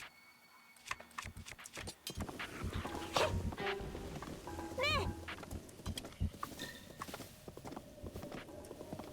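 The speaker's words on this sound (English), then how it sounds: "The donkey is pretty hard to control though." Donkey hooves clip-clopping in The Legend of Zelda: Breath of the Wild, a steady run of hoof beats through the clip, mixed with game sound effects and a faint animal call, with a person talking quietly at times.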